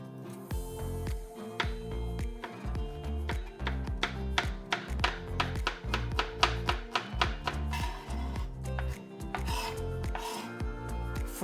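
Crushed garlic cloves are finely chopped with a knife on a board, a close, brisk run of sharp taps that speeds into fast, even strokes before slowing near the end.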